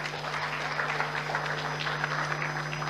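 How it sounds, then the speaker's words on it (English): An audience at a foundation selection event applauds in a steady, even patter of many hands, moderately loud and continuous throughout, with no one speaking. "That deserves a round of applause."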